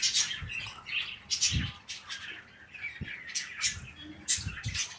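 Pet birds at a pet farm, squawking and chirping in rapid overlapping bursts, close and lively, with small scuffling sounds between calls.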